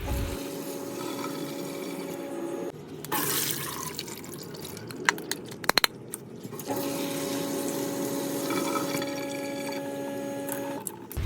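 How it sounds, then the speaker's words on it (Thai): Soaked split mung beans are rinsed in plain water, with steady splashing and swishing interrupted by a few sharp clacks and a short pause, all close up and without speech. "จากนั้นก็นำไปล้างน้ำเปล่า ก็ล้างสักสองสามรอบ"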